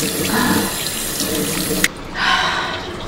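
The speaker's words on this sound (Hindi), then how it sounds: "ऐसा बस पानी से करोगे क्लीन" Tap water runs steadily into a sink as someone washes their face, close and loud, with a brief splash and a short pause before the flow resumes.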